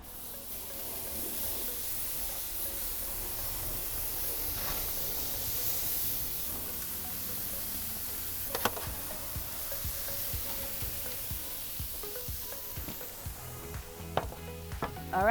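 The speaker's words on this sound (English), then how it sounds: "listen to them sizzle" Pineapple ginger marinated chicken pieces sizzle on a hot grill: a steady, close frying hiss with scattered sharp pops and crackles growing more frequent toward the end, with no talking.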